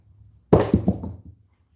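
Craps dice thrown onto a table, one hard thunk followed by a few quick bouncing knocks as they tumble to a stop, close and brief.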